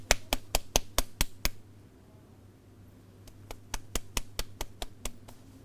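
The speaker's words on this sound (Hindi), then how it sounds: "सभी जानवर खुश होकर ताली बजाने लगे।" Hand claps for the animals in a Hindi children's puppet story about a lion and a rabbit: a brisk run of about seven sharp claps, a short pause, then about ten more, fairly close and clear.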